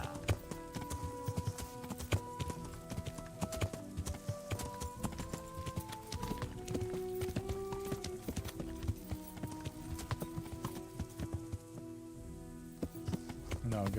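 Horse hooves clip-clop in a steady rhythm in the medieval video game Kingdom Come: Deliverance while riding through woods, with game music tones layered over the continuous hoofbeats.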